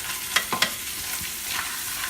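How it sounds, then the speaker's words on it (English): Arroz con pollo fries in a pan with a steady close sizzle, broken by a few sharp scraping stirs of a utensil across the bottom, with no talking. "Can you hear it sizzling?"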